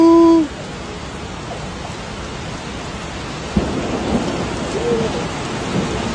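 A thunderstorm with heavy rain over the city of Wuhan, a dense, steady roar of rain with a sharp thunder crack partway through followed by a low, rolling rumble, after a brief tonal sound at the start.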